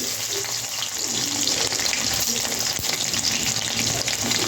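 Fenugreek seeds, mustard seeds and crushed garlic frying in hot oil, producing a loud, dense, crackling sizzle that holds steady throughout.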